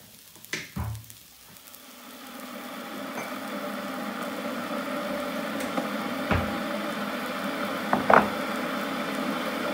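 Electric kettle heating water in a home kitchen, a steady rising hiss and rumble that builds over several seconds with a few faint clicks, heard alone at moderate loudness.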